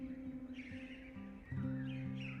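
Faint birds call and chirp in a brief cluster, a few tonal notes that shift and rise near the end, heard alone without speech.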